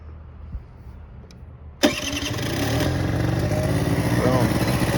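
A 1987 Honda Elite 50cc scooter starts abruptly after a quiet moment, then settles into a steady, buzzing idle close by.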